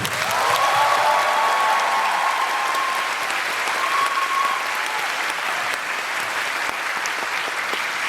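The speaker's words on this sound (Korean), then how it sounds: "그분들께 여러분 크게 박수 부탁드릴게요" A large concert crowd at a national tour show in Jeonju claps in a loud, continuous, even roar of applause that holds steady throughout, with a voice briefly audible near the start.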